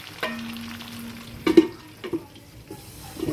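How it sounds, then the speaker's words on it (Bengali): Sun-dried mango pieces are stirred and fried in a pan for mango pickle: a few scraping stir strokes and clinks over a soft, steady sizzle, close by, with no talking. "এখন আবার নেড়ে দিয়েছি হ্যাঁ আমি এভাবে ভেজে নেব"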